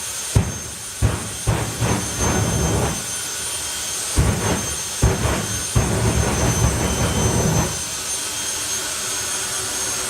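Fire Force 5 jet dragster at a drag racing event roars loudly and continuously, with sharp pops and bursts cutting through the sustained jet blast.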